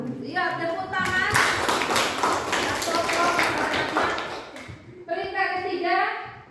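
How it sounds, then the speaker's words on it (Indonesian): Schoolchildren in an Indonesian classroom break into a burst of dense applause lasting several seconds, flanked by someone speaking just before and after the clapping. "Lihat, tepuk tangan."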